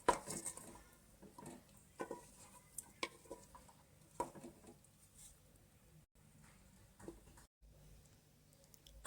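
Stirring mutton paya soup of goat trotters topped with coriander in a pot: quiet, sparse scrapes and clinks of a utensil against the pot, irregular taps scattered over a faint background.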